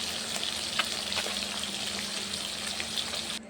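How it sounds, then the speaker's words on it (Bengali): Small chuno fish sizzle in hot oil in a home kitchen, a steady crackling hiss with occasional pops and spatters that cuts off abruptly just before the end. "ভাজা হচ্ছে ফাইনালি।"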